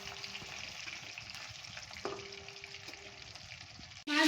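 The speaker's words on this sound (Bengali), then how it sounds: "অন্য সাইডটা ভালো করে ভেজে নেব।" Katla fish pieces frying in hot oil give a steady close sizzle for about four seconds, with a few faint clinks over it and a louder scrape or clatter right at the end.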